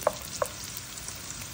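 Garlic pieces fry in hot oil with a steady, close sizzle, and two quick clinks of a utensil come near the start.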